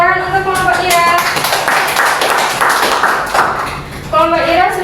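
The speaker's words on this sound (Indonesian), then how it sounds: "Tepuk tangan" A classroom applauds a student group with a few seconds of brisk clapping, with voices heard just before and after.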